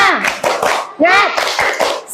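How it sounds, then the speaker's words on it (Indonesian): A class of young schoolchildren performs a rhythmic group clap in a classroom, bursts of clapping mixed with children's chanting voices in quick patterned beats. "Tepuk semangat."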